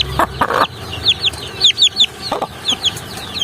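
Chicks cheep in quick, high bursts while adult chickens cluck low and close, a busy overlapping flock chatter with no voices.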